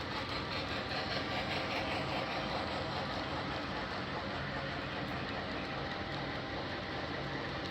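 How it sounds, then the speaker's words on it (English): A continuous rumbling, whirring mechanical drone of a brass model freight train holds at an even level throughout, running steadily along its track across a layout bridge. "let's go chase this train because she is going and going and going"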